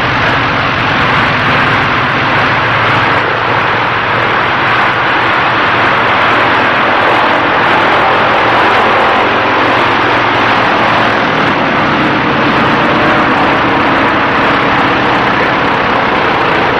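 A propeller airplane roars loud and steady as it comes in to land on a small landing strip by an old fishing village, a dense continuous engine drone with no talking.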